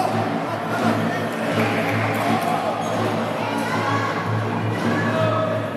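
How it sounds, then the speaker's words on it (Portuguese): Futsal crowd at a Sub-14 Pernambuco cup match between Santa Cruz and Sport, a steady indoor roar of fans cheering and chanting across the whole stretch, with shouts and whoops rising from the dense, continuous noise. "A torcida grita tri, tricolor, fazendo a sua festa."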